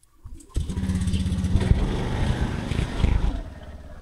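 A motorcycle engine runs steadily close by on a farm during a harvest of kaing crates, starting up sharply and holding a loud, rough idle with slight revving throughout.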